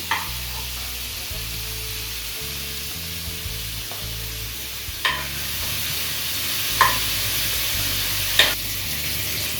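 Prawns fry in a pan for prawn pulao with egg, giving a steady close sizzle broken by a few sharp stirring clicks and scrapes.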